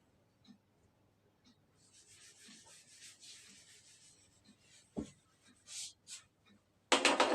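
Board being erased during a class 11 mathematics lesson, soft faint rubbing strokes that come and go, followed by a sharper louder scrape near the end, in a quiet room.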